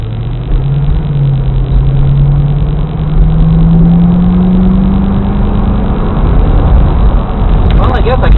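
A C4 Corvette is driven along, its engine a steady low drone that slowly rises in pitch as it pulls, with constant road and wind noise filling the cabin throughout.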